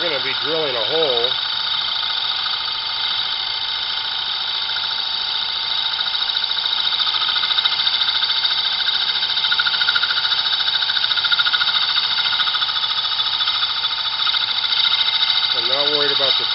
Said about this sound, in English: we're going to be drilling a hole.